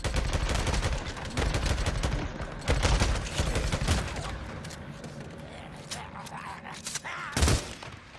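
Automatic fire from an MG55 machine gun in Days Gone: dense, rapid bursts for several seconds, then sparser single shots and a final loud burst near the end.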